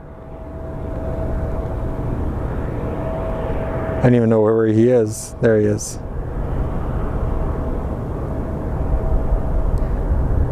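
A Spirit Airlines jet arriving from Dallas on approach to Sky Harbor makes a broad, steady engine roar that stays in the background all along, while a person speaks briefly partway through.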